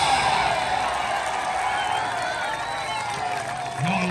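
A crowd claps and cheers at a kabaddi match in Bhowana, a broad, steady wash of applause that fades slightly before a brief swell near the end.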